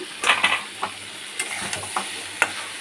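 Washed potatoes hitting hot oil in a pan with turmeric and Kashmiri chilli, a steady close sizzle broken by several quick scraping stirs.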